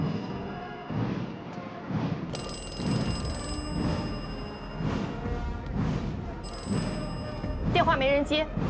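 A telephone rings repeatedly without being answered, bright bell bursts recurring over a tense drama soundtrack and voices, with a louder electronic warble at the end.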